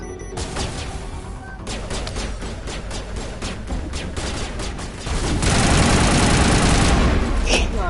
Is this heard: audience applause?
no